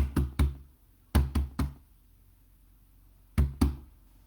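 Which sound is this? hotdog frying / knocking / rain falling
knocking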